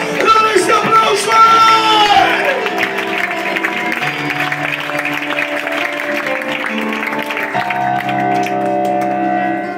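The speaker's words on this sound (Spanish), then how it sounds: "¡Dale ese aplauso!" A church congregation at a revival service claps and cheers loudly, with whoops and shouts. The applause swells early, then settles into sustained clapping and voices.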